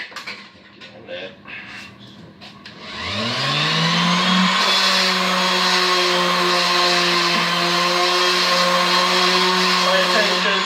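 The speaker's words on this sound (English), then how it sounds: "Sand it down." A power sander spins up and runs steadily on wood for a coat rack, a loud, sustained whirring drone with a rising start after a few seconds of quieter handling noise.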